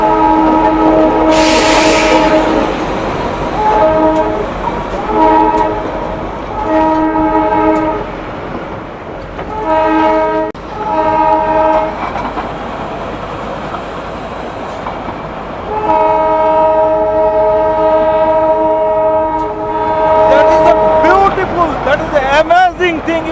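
The Darjeeling toy train runs on the Batashia Loop, sounding long repeated horn blasts over a steady rumble of wheels on the track, close and loud, while a person talks over it.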